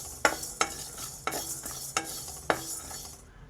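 Coriander seeds frying in a pan, a soft continuous sizzle broken by about five distinct scraping strokes of a spoon against the pan at uneven intervals, no voices.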